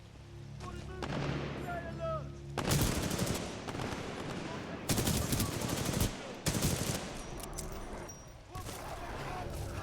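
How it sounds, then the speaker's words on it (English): Shotgun gunfire in the video game Titanfall 2, loud blasts and rapid bursts of shooting in several clusters, with game effects and faint talk between shots. "I just tried to long range shotgun him"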